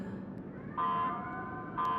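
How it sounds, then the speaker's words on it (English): Electronic security alarm in the Astral Chain video game, a steady pulsing tone that blares loudly in repeated bursts over a low ambient hum. "An alarm?"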